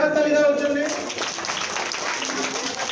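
Audience at a Saraswati Puja cultural program at RKM Antpur breaking into loud, sustained applause that swells after a voice and fills the whole clip.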